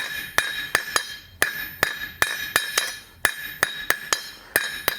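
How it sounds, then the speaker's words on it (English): A blacksmith's hammer strikes hot iron on an anvil with the edge to form a double shoulder for an 18th–19th century toaster, about fifteen sharp ringing blows in uneven groups, close and loud. "I'm just striking perpendicular with the edge, creating a double shoulder"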